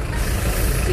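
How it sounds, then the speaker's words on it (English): A FedEx delivery truck with air brakes rumbles nearby in traffic at a light, heard from a convertible as a steady, loud, low engine drone throughout. "FedEx truck, the one that was in the video."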